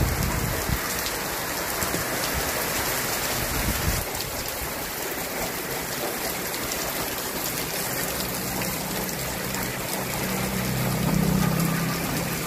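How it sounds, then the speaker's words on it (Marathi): Heavy evening downpour in a village, a dense, loud, unbroken roar of rain pounding surfaces nearby for the whole stretch, with no voices. "पण अचानक आलेल्या पावसाने वातावरणामध्ये चांगलाच गारवा निर्माण केला"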